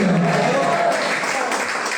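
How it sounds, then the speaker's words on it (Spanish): Congregation at a church service claps in a dense, continuous wash of applause that fades slightly toward the end. "se merece un aplauso"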